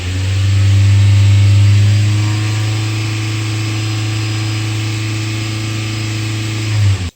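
Toyota engine with a lean-condition fault held at a loud, steady high rev as the throttle is pressed, a strong droning tone that stays level for several seconds before dropping away at the end.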